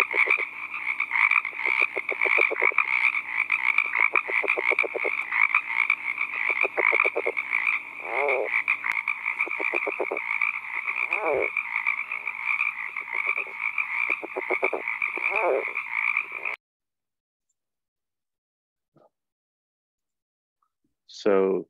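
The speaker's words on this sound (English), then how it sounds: "a quick video of a male frog calling to try to attract females" A male California red-legged frog calls to attract females: a long run of rapid, rattling pulsed croaks at close range, broken by a few brief squeaks, then a long silence and a short final sound.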